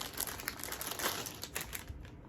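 Crinkly plastic packaging being torn open on an online clothing order holding socks, with close, busy rustling and crumpling that stays loud throughout.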